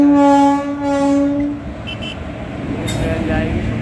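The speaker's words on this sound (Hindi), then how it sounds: "और अभी भैया ट्रेन आ रही है," A passenger train arrives in a town at night, its long horn blaring twice up close before the rumble of the approaching carriages takes over. Someone talks over it.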